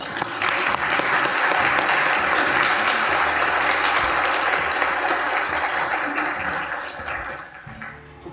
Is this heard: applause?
yes